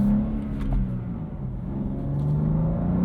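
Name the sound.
2023 BMW M2 6-speed manual driving at Road America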